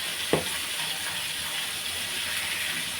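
Turmeric and chili powder fry in hot oil for fish bhuna, a steady close sizzling hiss running throughout with a small clink near the start.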